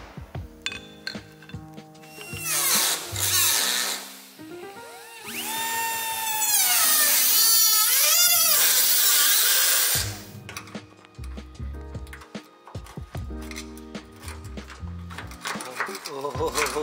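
Power grinder working on the body of a Toyota AE86, a loud sustained high-pitched whine rising and falling in pitch for several seconds, with clinks and handling noises around it.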